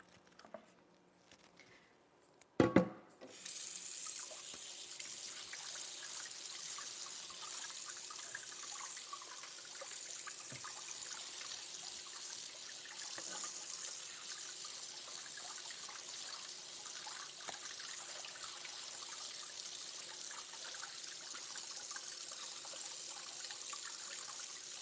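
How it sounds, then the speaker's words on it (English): A kitchen faucet runs steadily into the sink, a constant close hiss and patter of falling water lasting over twenty seconds after a brief clatter at the start. "Come on, faucet, turn off."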